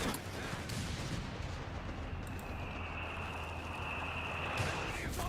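Mortar and artillery fire in the real-time strategy game Company of Heroes 3, a continuous rumbling barrage of battlefield blasts with a thin whistling tone running through the middle.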